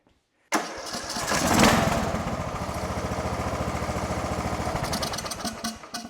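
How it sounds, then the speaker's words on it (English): A Craftsman lawn tractor engine cranks and catches after an ignition coil repair, then settles into a steady, close, loud running putter that wavers slightly near the end. "I'm going to go ahead and see if it'll fire up"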